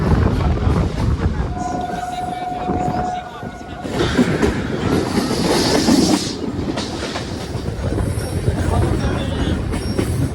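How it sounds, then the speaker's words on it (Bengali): A train rolls into Pakdwip station with loud clattering wheels, a sustained brake squeal and hissing, amid steady crowd noise. "এখন ট্রেন এসে দাঁড়িয়েছে দেখতে পাচ্ছি পাকদ্বীপ স্টেশনে"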